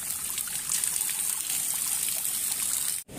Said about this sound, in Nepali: यो चाहिँ पानी एकदम शुद्ध पानी हो होइन